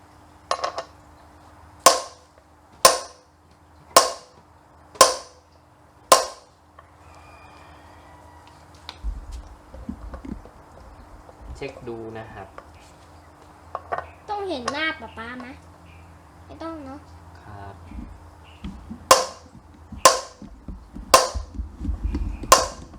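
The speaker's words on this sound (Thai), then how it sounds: "ก็ตีจนรู้สึกว่ามันแน่นนะครับ" A rear wheel bearing hammered into a Honda CB150R hub: loud, sharp metallic blows in an even series, a quieter stretch with talking and clinks in between, then another rapid run of strikes.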